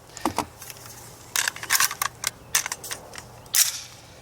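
Rapid sharp cracks of an AR-15 rifle firing steel-cased 7.62x39 ammunition, a loud string of shots in uneven bursts, with one especially sharp report near the end.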